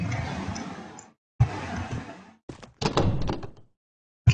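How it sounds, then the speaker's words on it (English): A locked door in the horror video game Amnesia rattles and thuds in repeated bursts, loud and close, with short pauses between the shaking attempts and a heavy thunk at the end. "Door is locked."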